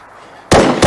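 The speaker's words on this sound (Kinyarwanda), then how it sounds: "Yumva amasasu." Two sharp, loud gunshot blasts in quick succession after a brief quiet stretch, the first ringing out for a moment before the second cracks in close behind it.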